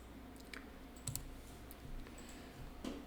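A computer mouse clicks a few times, quiet and close, in short isolated taps over a low steady hum.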